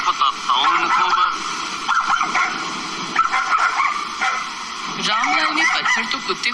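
Several dogs bark and yip in a Hindi horror cartoon on a deserted forest road at night, loud sharp barks in bursts with whimpering, over a voice talking throughout.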